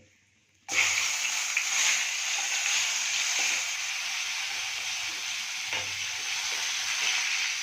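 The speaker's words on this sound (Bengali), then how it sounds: "এবার তাতে দিয়ে দিলাম একটু টমেটোগুলোকে" Chopped tomatoes frying in hot oil in a pan for a moong dal omelette curry, giving a loud, steady sizzle that starts abruptly after a quiet moment and carries on with faint stirring clinks.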